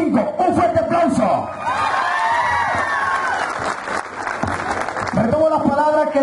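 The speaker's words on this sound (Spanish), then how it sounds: "se merecen ellos cinco un fuerte aplauso" Loud crowd applause with cheering and whoops for five candidates at a 2015 mayoral debate in San Alejo, clapping that swells and continues throughout.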